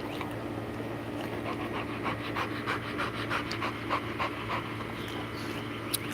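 A dog pants steadily and close by in a quiet room, with quick, rhythmic breaths that run through the whole stretch with no voices over them.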